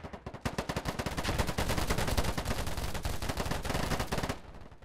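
AK-47 gunfire in the PC video game Polygon rattles out as a long, steady automatic burst of rapid shots, loud and continuous for several seconds before cutting off, with no speech.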